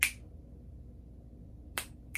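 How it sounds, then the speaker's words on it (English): Two crisp finger snaps, close and sharp, one at the very start and another about 1.8 seconds later, separated by quiet room tone. "When I was supposed to snap my fingers"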